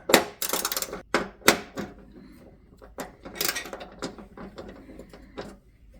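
A small ratchet clicks in short bursts while removing the brass nozzles from a two-burner dual-fuel gas cooktop, loud at first, then lighter, uneven clicks.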